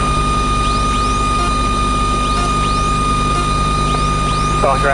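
Cessna light aircraft engine running on the ground just before takeoff, a steady close droning hum with sustained tonal whine, heard from inside the cockpit with faint voices in the background.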